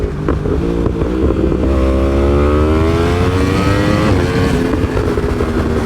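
A Yamaha R1M sport motorcycle revs on the road while riding, a loud close engine note climbing steadily in pitch as the throttle opens, with no talk.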